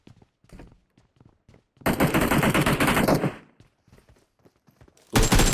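Gunfire in the PUBG Mobile video game: a long sustained burst of rapid automatic shots, then a short second burst, with scattered faint footsteps and clicks in the quieter gaps.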